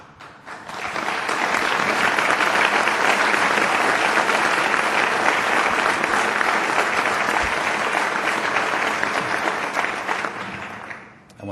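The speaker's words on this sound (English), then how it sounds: "I want to thank my brother for starting that applause." An audience at a Canadian Club luncheon speech breaks into sustained applause, a dense wash of clapping that swells quickly, holds steady for several seconds, then tapers off.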